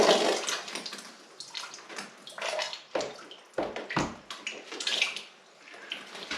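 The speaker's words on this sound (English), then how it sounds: "wait for that to stop, and then get a couple of inserts in. In fact, I'll get one in now, between splurges of water." Water gushes in irregular bursts from a plumbing pipe punctured by a nail inside a chopped-out wall, close and fairly quiet, surging and dropping off repeatedly with no talk.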